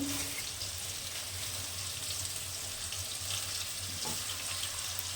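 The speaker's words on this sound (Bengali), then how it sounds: "একসঙ্গে সব ভাজা হবে" Cashews, raisins, carrots and beans frying together in a pan for fried rice, a steady close sizzle and crackle running evenly throughout with no talking.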